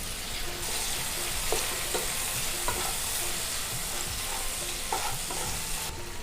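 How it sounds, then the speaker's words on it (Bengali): A pan of kochur loti (taro stolons) and prawn curry sizzles and fries steadily while a utensil stirs it in repeated scraping strokes, close and continuous with no talking. "বন্ধুরা খুলে নেড়ে দেব।"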